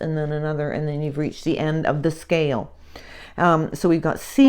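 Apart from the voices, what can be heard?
None of the usual background noises is heard.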